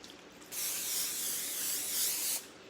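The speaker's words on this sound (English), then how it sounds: "So spray it on your baking sheet." Cooking spray hissing from a can onto a baking sheet: one steady, close spray burst of about two seconds, starting and stopping abruptly, in a quiet kitchen.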